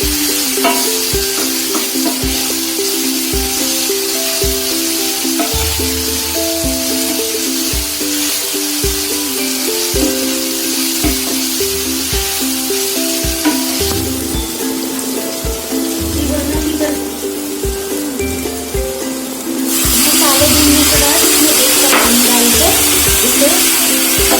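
Bottle gourd sautéing with spices and black pepper in a pan, a continuous loud sizzle broken by regular scraping stirs, with a harsher spray of frying noise near the end.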